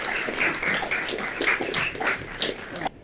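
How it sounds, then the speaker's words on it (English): A crowd applauds for writer Gary Younge at a conversation event, a dense steady burst of many hands clapping together for about three seconds before cutting off abruptly. "we should give a huge round of applause to Gary"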